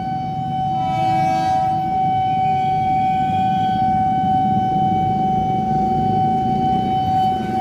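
A railway level crossing warning siren sounds a steady, unbroken tone at moderate distance over continuous low outdoor rumble, with no talking.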